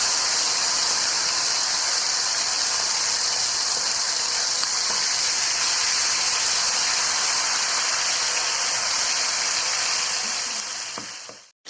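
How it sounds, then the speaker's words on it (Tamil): Chicken pieces fry in hot oil in a kadai, giving a loud, steady, even hiss of sizzling that holds without a break, then cuts off abruptly at the end. "எண்ணெய் சூடானதுக்கப்புறம் சிக்கனை போட்டுட்டு ஃப்ரை பண்ண ஆரம்பிச்சிடலாம்."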